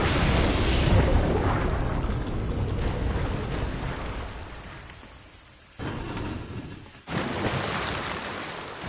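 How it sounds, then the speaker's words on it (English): A rocket launcher fires and its round explodes in the Resident Evil video game, a loud, sustained roaring blast that slowly dies down. It cuts off abruptly, then two more short rushing bursts follow. No talking. "as much as I want to shoot it with the rocket launcher, I'm gonna do that anyway"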